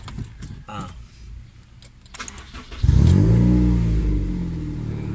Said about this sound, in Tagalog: ganda ng tunog ng muffler mo sir